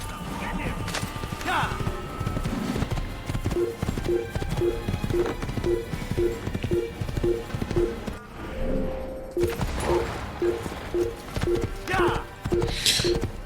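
Horse hooves clip-clop in a steady trotting rhythm through most of the stretch in the Assassin's Creed video game, with a short pause midway, over game ambience and occasional thuds.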